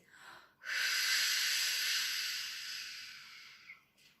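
A voice imitates rustling leaves with a single drawn-out breathy shh lasting about three seconds, close and fairly loud, with faint breaths before and after.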